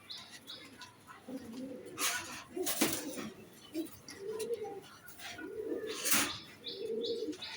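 Roller pigeons coo softly in repeated low phrases at a pigeon farm, with occasional chirps and brief bursts of wing flapping nearby.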